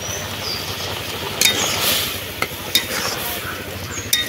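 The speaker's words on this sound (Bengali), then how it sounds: "কাঁকড়ার টক ঝালের রেসিপিটি ফুটে গেছে, হয়েও এসছে।" Sour-spicy crab curry made with Sundarbans crab boils in a pot under a bubbling hiss, with a utensil stirring and clinking against the pot a few times.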